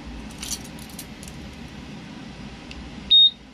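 A car alarm system's remote receiver and ECU answer with two short, sharp high-pitched electronic beeps near the end, after a stretch of faint jingling and quiet background hiss.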